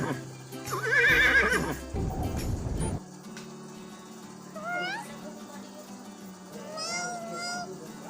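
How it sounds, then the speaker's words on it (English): A horse whinnies in a bright, wavering neigh near the start, loud and close, followed by quieter cat-like meows and brief chirpy calls, with no talking over it. "Horse."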